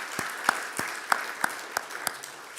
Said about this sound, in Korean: 우리 모든 아버지들 한번 격려하면서 박수 한번 칩시다